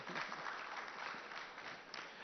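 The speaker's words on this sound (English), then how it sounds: "Let's give her a very warm round of applause." An audience at an Auto Today conference event gives a warm round of applause for a woman guest; the steady clapping sounds distant and fairly quiet, with no speech over it.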